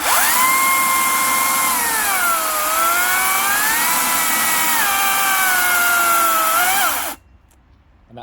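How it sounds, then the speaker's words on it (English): Clarke ECSS2-sharpened blunt chainsaw struggling through wood, a loud steady engine drone whose pitch sags and rises under load for about seven seconds before cutting off to near silence. "This is a blunt chainsaw, which is, you'll see it really struggles for me to push down."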